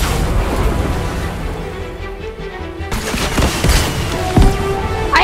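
Rocket launcher explosions in a video game, a run of booming blasts over a steady rumble, ending with a sharper, louder burst near the end.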